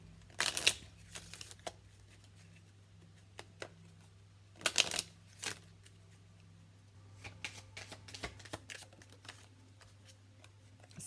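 Tarot cards are shuffled and drawn in several short riffling bursts close to the mic, separated by quiet pauses and lighter taps and slides of cards on a table.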